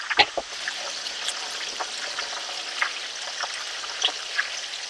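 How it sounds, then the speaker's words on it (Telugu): Salt water splashed into hot oil where potato chips are frying sets off a fine, steady sizzle with scattered sharp crackles, close and moderately loud, no speech. "ఈ సాల్ట్ వాటర్ సౌండ్ సతికిలు పడేసరికి మనకి కరెక్ట్గా అయిపోయినట్లు లెక్క."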